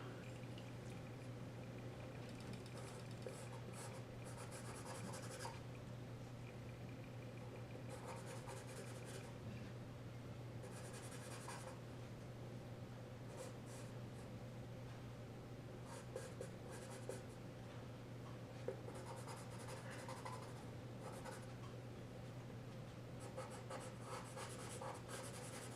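A charcoal pencil moves over paper while a cat is drawn, giving faint scratchy strokes in short bursts over a quiet steady room hum.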